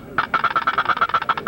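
A push-button turkey box call cackles in a rapid, even run of about a dozen sharp, bright clucks. It sounds close and loud, with no speech.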